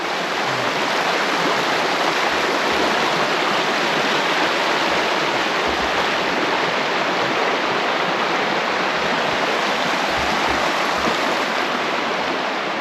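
Clear stream water rushes steadily through Hells Canyon, a dense, constant close-up wash with no pauses and no voices.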